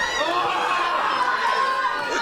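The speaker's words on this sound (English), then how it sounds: "The crowd willing him on desperately to make it here." A steady roar from a wrestling crowd urging on a wrestler at a P.E.W. match, with mixed shouts and cheers, heard under continuous commentary.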